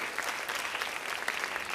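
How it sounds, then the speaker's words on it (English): A Y20 event audience keeps up a continuous round of clapping, broad and even throughout, with no speech breaking through. "A big round of applause."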